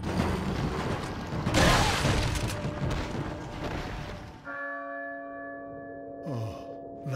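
A church bell tolls in Resident Evil 4 after loud gunfire and combat noise, sustained resonant bell tones ringing out clearly once the fighting drops away.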